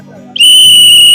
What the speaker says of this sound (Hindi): इस सीटी से आवाज निकालेंगे ये